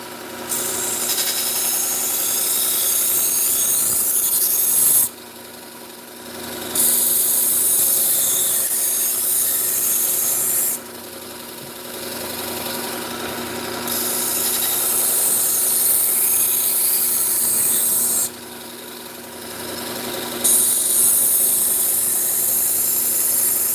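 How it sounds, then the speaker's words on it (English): A knife edge is refined on a 600 grit Acceleron belt on a belt grinder, a loud, continuous grinding rasp in several long passes broken by short pauses. "Acceleron belt, and it's a 600 grit. And really, it just refines that edge, kind of polishes and refines the edge."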